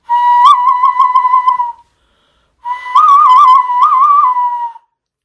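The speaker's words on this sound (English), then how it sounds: "I can make a whistle with my hand." Two sustained hand whistles with a warbling pitch, each lasting about two seconds, separated by a brief pause, loud and close.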